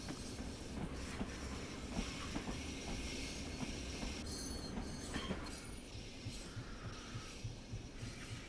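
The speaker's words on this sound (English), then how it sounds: "No, that was the train going beep beep" A Long Island Railroad commuter train from Train Sim World 4 rumbles past at moderate volume, with rhythmic wheel clatter and a rushing, slightly squealing wash of noise, and no voices.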